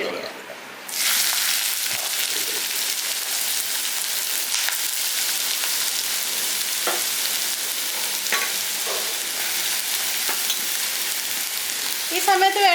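Bitter gourd hits hot oil with popped mustard seeds and settles into a steady, loud sizzle and frying hiss that runs throughout, broken by occasional scraping stirs near the end.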